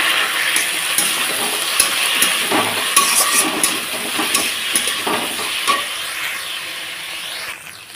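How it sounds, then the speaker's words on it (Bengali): Ginger, garlic and chili paste hits browned onions in a pan for ghugni, giving a loud continuous sizzle with scraping stirs throughout. "তো এখানে আদা রসুন লঙ্কাটা দিয়ে পেস্ট করে রেখেছি, এটা এখন দিয়ে দিলাম।"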